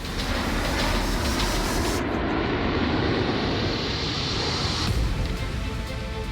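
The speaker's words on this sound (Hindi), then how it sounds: "इसके बाद वायुसेना के जवानों ने एयर शो किया।" Indian Air Force fighter jets roar overhead during an air show over an expressway, a loud continuous broadband jet rumble that holds steady throughout with no voices.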